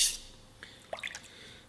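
Faint water drips land on a Gesshin 400 sharpening stone, a few soft drops in quick succession in a quiet room.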